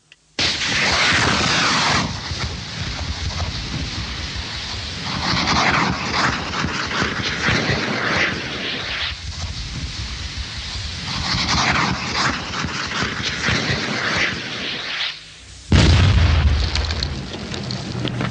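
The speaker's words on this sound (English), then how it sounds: "the Avery, fitted with a giant Viper rapid breaching device, explodes a safe path in a matter of minutes" Viper rapid breaching device on a British Army Avre vehicle detonating to clear a path through a minefield, a loud, sustained roar of blasts and rumbling debris that continues for many seconds, with a sharp fresh boom near the end.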